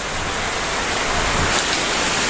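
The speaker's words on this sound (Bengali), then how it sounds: "বাইরে চলছে তুমুল বৃষ্টি" Heavy monsoon rain pouring down outdoors, a loud, dense and steady wash of noise that stays constant throughout.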